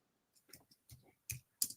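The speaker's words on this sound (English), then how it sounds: "I'm just typing here." Light, irregular keystrokes on a computer keyboard, a handful of soft clicks spaced unevenly, close and quiet.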